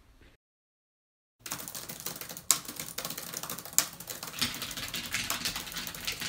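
Rapid clattering keystrokes on two computer keyboards run continuously after a brief silence, with a few louder key strikes standing out, close and moderately loud.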